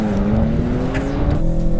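A 680-horsepower AMG C63 and a BMW M3 launch side by side from a standstill in a quarter-mile drag race, their engines roaring loudly as the pitch climbs steadily through the gears.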